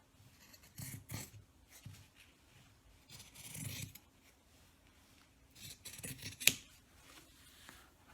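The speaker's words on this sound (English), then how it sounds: "Then you cut along that line" Scissors snip through fabric along a marked line in short, quiet bursts of crisp cutting and rustling, with one sharp click partway through.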